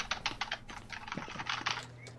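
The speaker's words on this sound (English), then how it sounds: "that's keyboard clicking noises." Rapid clicking of computer keys in quick irregular bursts, close by and fairly soft, with a low steady hum underneath.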